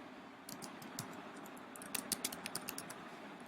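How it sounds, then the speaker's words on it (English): A password is typed on a computer keyboard, with quiet scattered keystrokes at first, then a quick run of crisp clicks close by, fairly soft overall. "here I'm going to enter the password"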